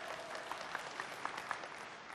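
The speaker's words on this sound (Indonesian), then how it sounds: "tepuk tangan untuk regu B" At a constitution debate grand final, an audience claps for one of the teams, a soft, distant patter of applause with a few sharper claps standing out, fairly faint throughout.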